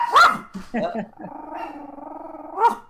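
A dog barks sharply close by, then growls in a long, sustained rumble, ending with another bark.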